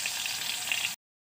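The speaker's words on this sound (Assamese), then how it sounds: "কাটি এতিয়া তেলত দি দিছোঁ। পিঁয়াজৰ কালাৰটো চেঞ্জ হোৱালৈকে ভাজিম।" Chopped onions fry in hot oil in a kadai, giving a close, steady sizzle with soft crackles that stops abruptly partway through.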